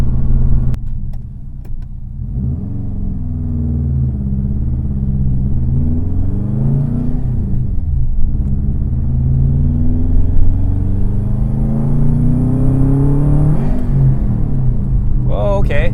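A 2004 Subaru WRX turbocharged engine, making 260 wheel horsepower, pulls hard through rising revs from inside the car, a loud, steady rumble that climbs in pitch, dips at a shift and climbs again.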